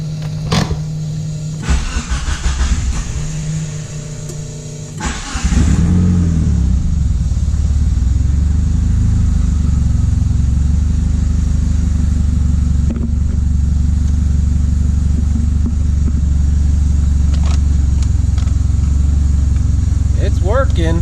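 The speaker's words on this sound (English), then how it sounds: "Let's turn on the car and see what happens." A DSM car's engine cranks briefly, catches, then settles into a loud, steady idle that runs on with small rev changes, with a voice talking early on.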